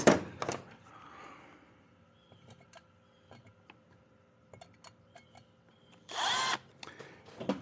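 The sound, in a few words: electric drill drilling Efco 165 crankcase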